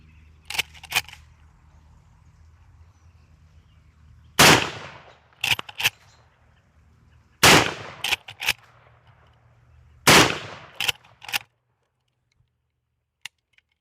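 A 30-30 rifle fires through trees and brush, three loud, sharp, echoing shots spaced a few seconds apart, each followed by quicker metallic clacks of the action being worked.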